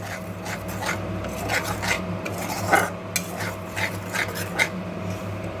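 A spoon scrapes and stirs wet masala in a pan as it fries for a vegetarian potol dish without onion or garlic, with steady rasping strokes and occasional louder scrapes over a low background hum.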